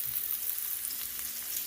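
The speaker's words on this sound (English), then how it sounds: "I'm gonna let those brown up a little bit more because onions just gives the eggs so much better flavor" Onions browning in a frying pan for eggs, with a steady close crackling sizzle running throughout and no talking.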